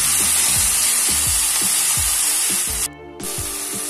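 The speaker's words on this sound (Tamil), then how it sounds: "இது எல்லாத்தையும் ஒண்ணா நல்லா வந்து வதக்கணும்" A tomato chutney mixture sautés in a pan with a steady loud sizzle, broken by rhythmic scraping strokes of a stirring spoon and a brief dip in the hiss near the end.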